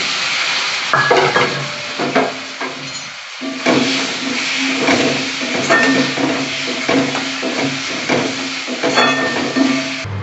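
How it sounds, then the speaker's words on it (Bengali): Tomatoes going into a hot frying pan for an okra curry, with a loud, steady sizzle and repeated scraping stirs of a spatula, briefly dipping before the frying hiss returns. "এবার আমি টমেটো গুলো দিয়ে দিচ্ছি।"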